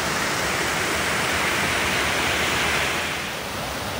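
Steady, dense rushing water fills the scene, a loud continuous roar like a fast river or cascade with no breaks, from a river crossing after a night of heavy rain.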